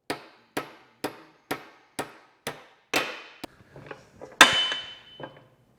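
A hammer striking a cut-off bolt used as a punch on the PTO shaft of an Allis Chalmers D17 tractor: seven evenly spaced ringing metallic blows, then a few softer taps and one loud final clang, close and alone.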